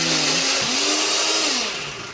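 A blender grinds spice paste with shallots, giving a loud, continuous, close whirring roar whose pitch wavers slightly as the mixture churns.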